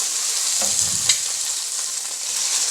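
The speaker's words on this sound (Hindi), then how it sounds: "अब मैं इसमें लहसुन डालूँगी और इसको फिर से भून लूँगी।" Golden onion fries in a pan with added garlic and tomato for an Indian potato curry, a loud, continuous close-up sizzle with a couple of brief stirring scrapes and no talking.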